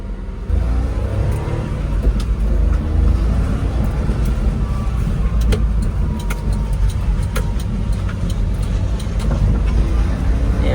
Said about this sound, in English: Let's drive this a little bit, make sure the wheels and everything are good,